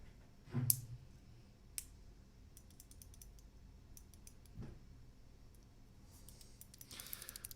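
A mechanical keyboard with Gateron switches being reassembled: scattered, sharp plastic clicks and taps spaced irregularly, close and fairly quiet, ending in a brief flurry of light rattling.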